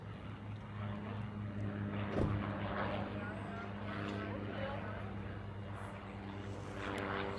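A large heavy jet passes overhead at sunset on Hawaii, its distant broadband roar steady and low throughout, under faint ambient noise with no talk.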